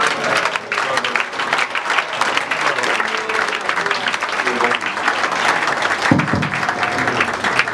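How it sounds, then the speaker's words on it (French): A church congregation applauds during a ceremony, dense sustained clapping filling the whole stretch with crowd voices mixed in, fairly loud and steady, one sharper burst near the end. "Et nous acclamons le Seigneur."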